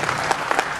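An audience claps steadily at a tribute music program, a dense wash of applause throughout with a few sharper claps standing out, and no voices over it.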